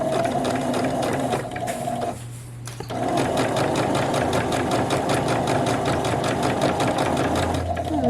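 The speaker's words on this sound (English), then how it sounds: "So all we're going to do is sew that 3/8 of an inch seam" A sewing machine stitching a 3/8 inch seam on a formal dress runs steadily and close, with one brief pause near the middle before the rapid stitching resumes.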